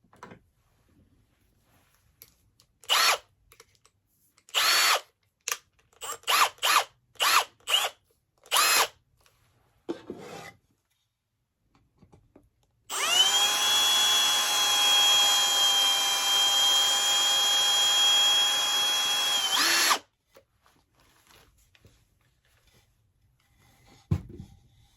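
A power drill driving a screw runs in one steady, loud whine for about seven seconds, after a scatter of short clicks and knocks from handling the tool.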